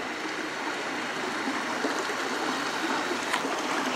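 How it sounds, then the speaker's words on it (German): Small waterfall in the countryside, heard as steady broadband rushing and trickling water close by, continuous and even throughout with no voices. "Schaut mal dort, da ist so ein kleiner Wasserfall."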